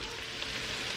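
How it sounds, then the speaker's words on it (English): Meat browning in a pan on a stovetop, a steady close sizzle and crackle throughout with a brief scrape or stir near the end. "So the meat's almost brown."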